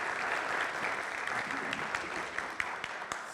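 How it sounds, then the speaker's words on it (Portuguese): Audience applause at a live talk event, steady dense clapping throughout with a few sharper individual claps standing out toward the end. "Você viu que as palmas duraram até você chegar aqui?"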